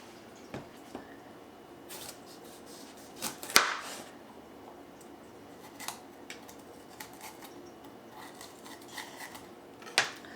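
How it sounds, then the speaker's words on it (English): A knife slices the top off a bell pepper, giving sparse, crisp cuts and soft scraping clicks spread over several seconds against a quiet kitchen background. "So what I'm doing is I cut the top off of the pepper."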